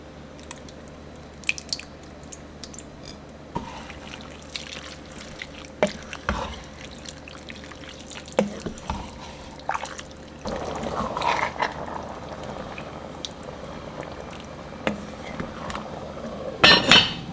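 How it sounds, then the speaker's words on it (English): Tomato sauce and crushed tomatoes poured into a pot for Bolognese, heard as close, intermittent wet glugs, plops and squishy drips, with scattered clinks and a thicker pouring stretch toward the end. "So we're gonna do some sauce and some crushed tomatoes."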